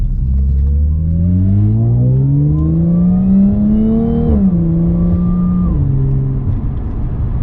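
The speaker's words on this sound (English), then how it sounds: "so you can hear another clip of this exhaust" An Audi S4 with an AWE Touring exhaust accelerates hard through the gears, a loud rising engine note that climbs, drops at a shift, then settles into a steadier drone, heard up close with no talking.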